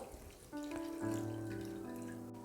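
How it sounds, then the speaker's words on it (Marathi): Water from a tap pours over poha in a sieve, starting abruptly and running as a steady, fairly quiet stream with a rising pitch as the flow fills and splashes. "चाळणीवर ठेवून असं पाणी टाकून धुवून घ्यायचं"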